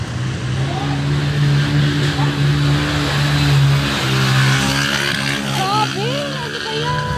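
A motor tricycle engine drives past through flood water, a loud close steady drone that holds and then fades, with a voice briefly rising toward the end.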